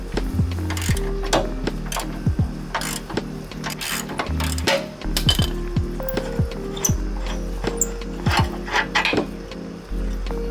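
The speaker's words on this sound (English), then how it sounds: "So now I'm gonna put my ratchet on this side, also a 17mm, and just try and crank it out through." A ratchet wrench cranks out a 17mm upper control arm bolt on a 2007 Kia Sorento, giving close, rapid runs of metallic clicks in uneven bursts with brief pauses between strokes.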